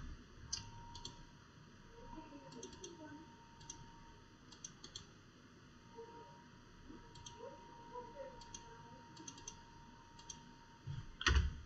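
Computer mouse clicking during work in Fusion 360 CAD software, sparse single and double clicks, close but faint, over a steady electronic hum.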